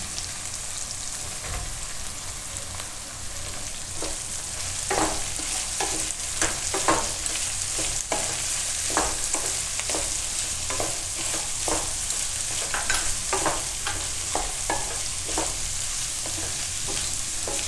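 Cabbage and mixed vegetables stir-fried in a pan for sabudana khichdi, giving a steady sizzle with repeated scraping strokes of a spatula throughout, close and fairly loud, with no talking.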